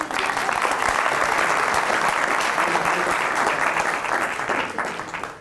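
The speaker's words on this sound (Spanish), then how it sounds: "¡Aplauso, por favor!" A university audience claps at an on-stage interview, sustained, loud and dense applause that holds steady before easing off slightly at the end.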